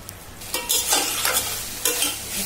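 Vegetable bhaji frying in a pan for an oil-less pulao dish, a steady close sizzle with repeated scraping stirs, no talking.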